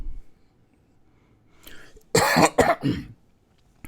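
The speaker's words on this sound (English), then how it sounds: "Sorry for the coughing" A few harsh coughs close to the mic, two or three bursts in quick succession after a short breathy sound, then quiet.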